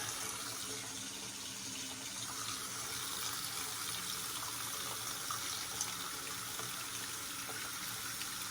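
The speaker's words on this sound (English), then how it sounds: "Let the hot water heat up." Hot water runs steadily from a tap, a constant hissing splash with no pauses.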